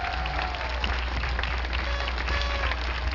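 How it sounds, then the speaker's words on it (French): A large crowd at an evening Relay for Life charity event in Terrebonne claps and applauds steadily for a few seconds, a dense wash of hand claps filling the space. "on pourrait commencer par s'applaudir tout le monde ici qui s'est présenté ce soir"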